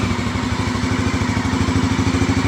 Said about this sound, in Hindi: आवाज आप सुन सकते हो विदाउट एक्सीलरेशन